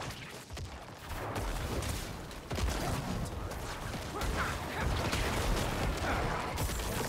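A rapid barrage of explosions and crashes fills a Diablo IV tier 100 Nightmare Dungeon run with a Necromancer, dense and continuous with sharp bursts throughout.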